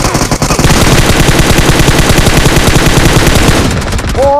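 Loud, sustained automatic gunfire from the video game PUBG, rapid shots in a dense continuous burst that cuts off near the end, leaving a short ringing tone.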